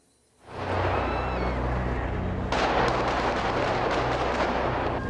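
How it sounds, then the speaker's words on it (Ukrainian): Sustained heavy gunfire and rumbling blasts echo continuously along a Kyiv street during a special police operation, loud and dense, with a sharp increase in intensity midway through. "Перші постріли на вулиці Городецького пролунали о пів на другу дня."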